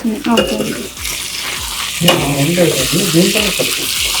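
Curry leaves fry and are stirred in a pan while an eggplant chili dish is cooked, giving a loud, close, steady sizzle with scraping. Voices talk over it for much of the time.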